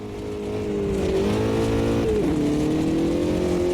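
Rally car in Automobilista 2, its engine droning steadily with a shift in pitch partway through as it climbs, a continuous loud in-car engine note.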